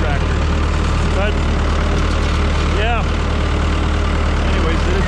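A tractor engine without a cab idling steadily in snowy weather on a farm, with a loud, constant low rumble filling the whole clip.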